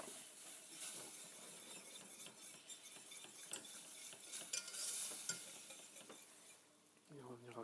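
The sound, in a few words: stirring milk into roux in a pan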